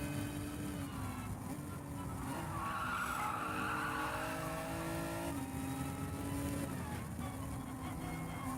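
Racing cars in Gran Turismo 7 at the Red Bull Ring screech with sustained tire squeal over a steady engine drone, the whine rising and falling continuously throughout at moderate loudness.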